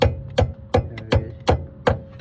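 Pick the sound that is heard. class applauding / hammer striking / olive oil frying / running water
hammer striking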